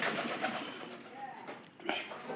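Domestic pigeon kept in a straw-lined nest box cooing softly up close in a short, murmuring stretch with a brief dip near the end.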